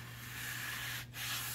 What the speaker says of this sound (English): It's thin, so it works fast with 80 grit.